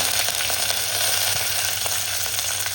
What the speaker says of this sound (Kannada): ತುಪ್ಪ ಬಿಸಿ ಆದಮೇಲೆ ಒಂದು ಅರ್ಧ ಸ್ಪೂನ್ ಅಷ್ಟು ಸಾಸಿವೆ ಹಾಗೆ ನಂದು ಏಳೆಂಟು ಬೀಜ ಮೆಂತೆ ಮೆಂತೆ ಕಾಳು ತಿರಿದ ನಂತರ ಒಣಮೆಣಸು ಕರಿಬೇವು